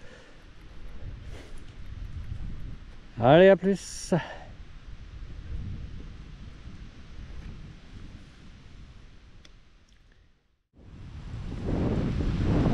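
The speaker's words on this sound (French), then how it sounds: "on était à l'abri du vent, ouais, tu parles, je suis en plein courant d'air là" Wind buffets a hillside during mountain biking, a steady low rushing roar that drops out briefly and then surges back loud at the end; people talk over it, with a brief shout early on.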